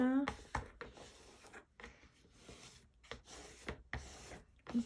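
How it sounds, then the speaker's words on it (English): Repeated dry rubbing strokes as a marker barrel burnishes a paper book cover in place of a bone folder, close and quiet, in short bursts separated by brief pauses. "burnish it with my marker wannabe bone folder"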